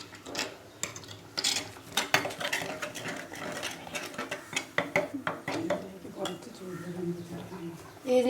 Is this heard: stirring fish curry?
yes